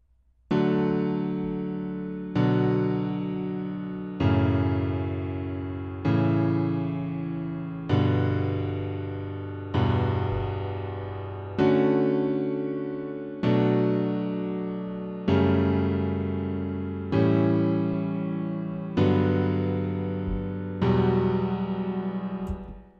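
Eleven evenly spaced piano-like chords, each struck and left to decay, move through a progression with added seventh and ninth chords in inversions, sounding clear and close with no speech.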